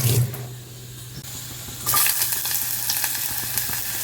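Marinated chicken sizzles and fries directly in a pressure cooker, a steady close hiss with a low hum beneath that grows louder and brighter partway through, with small crackles scattered across it.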